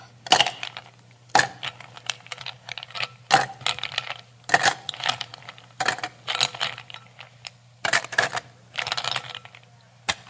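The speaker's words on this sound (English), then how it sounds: "now I would like you to fill that glass with ice cubes" Ice cubes are dumped and dropped into a glass in repeated bursts of clinking and rattling, about eight clusters spaced a second or so apart, close and crisp over a steady low hum.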